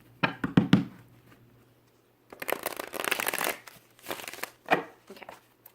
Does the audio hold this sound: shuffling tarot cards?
yes